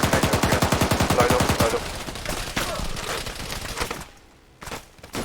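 Rapid gunfire bursts in a military video game, including sniper fire, crack loudly and repeatedly at first, then thin into scattered shots and sporadic reports with a brief lull near the end.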